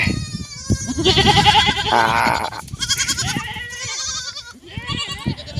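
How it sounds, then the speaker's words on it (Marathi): Several goats bleat loudly and close by, their wavering cries overlapping one after another in a near-constant chorus. "शेळ्या तर लय गडबडी नाही तिला बाहेर"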